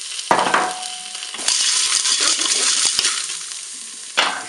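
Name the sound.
pasta being added to Cookeo pot with chorizo and onion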